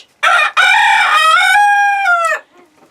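A chicken gives one loud, close crow, a drawn-out cock-a-doodle-doo, followed by a soft cluck.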